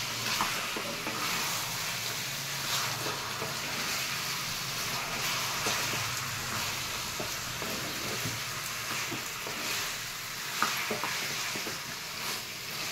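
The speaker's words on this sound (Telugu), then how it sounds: "మనం ఉప్పు మొత్తం కలిసేటట్టు తిప్పుకోవాలి." Salted chicken curry stirred in a heavy kadai over high heat, a continuous close sizzle with frequent spoon scrapes and stirring clatters, steady and unbroken over the whole stretch.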